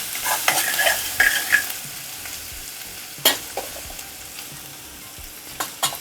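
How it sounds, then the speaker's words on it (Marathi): Garlic frying on low heat in a pan, a steady soft sizzle broken by sharp scraping clicks of a spoon stirring, close and clear with no talking. "छान फ्राय करायची हिचा कच्चेपणा गेला पाहिजे कारण लसुणीचा कच्चेपणा चांगला लागत नाही पदार्थामध्ये"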